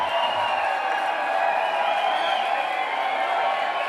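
Crowd cheering and applauding at a drag pageant in a nightclub, a steady dense roar of voices and clapping filling the whole stretch at close range.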